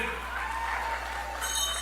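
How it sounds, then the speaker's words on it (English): Dense, steady clapping from a crowd at a UNC community meeting in Rio Claro, loud and continuous throughout with no gaps. "Round of applause again for Orlando APP."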